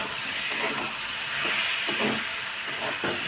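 Water hits a hot pan of frying aar fish curry with potatoes, setting off a steady, loud hiss of sizzling steam that holds for the whole moment.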